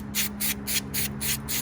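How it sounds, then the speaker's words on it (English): Brake parts cleaner sprayed onto greasy parts of an old Lionel toy train, six short hissing bursts in an even rhythm, close and loud over a low steady hum. "Brake parts cleaner. Ordinarily, you'd want to use gloves or something like that when you're spraying this."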